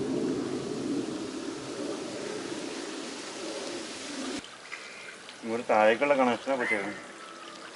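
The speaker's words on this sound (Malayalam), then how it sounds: "കൊള്ളിക്കാട് പൈപ്പ് പൊട്ടി വെള്ളം റോഡിലൂടെ ഒഴുകുന്നു" Drinking water gushes steadily from a burst municipal supply pipe and flows along a roadside in Kollikkad, Kothamangalam, a continuous rushing pour that cuts off midway, after which someone speaks over quieter background.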